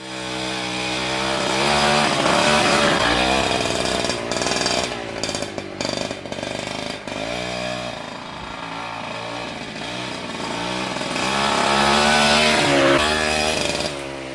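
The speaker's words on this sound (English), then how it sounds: "let's hear what the exhaust sounds before with the stock modded exhaust" A Vespa Piaggio Ciao 65cc moped engine with stock exhaust revs and idles loudly, its raw buzzing drone rising and falling in pitch across the whole stretch, close by and continuous.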